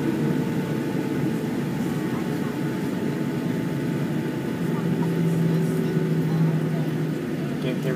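An airliner rolls down a San Francisco runway at takeoff on a flight to Kona, Hawaii, its steady engine roar heard from inside the cabin, low and continuous, with a rising tone near the end.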